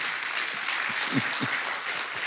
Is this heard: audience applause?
yes